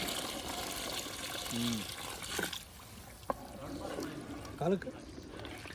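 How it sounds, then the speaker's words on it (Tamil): Water pours briefly into a cooking pot in short splashing bursts, with clattering and scraping of utensils around it. "இப்போ தேவையான அளவு தண்ணி ஊற்றுறாங்க."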